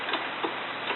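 A 17 mm wrench works a nut loose on a Toyota Camry lower control arm and sway bar, giving a steady run of sharp ratcheting clicks at an even, unhurried rhythm, close up with no talk.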